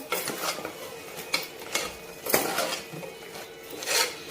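A spoon stirs chopped coriander into a mutton and fenugreek curry in a pot, giving soft scraping and clinking strokes in irregular bursts at close range.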